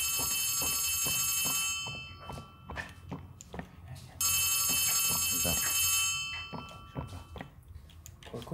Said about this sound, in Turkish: Bir dakika, telefonum çalıyor.